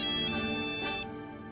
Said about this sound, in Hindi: आदित्य भाई का फोन?